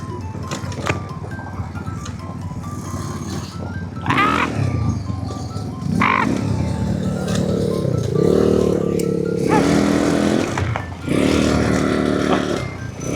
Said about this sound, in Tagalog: Truck sa likod ko.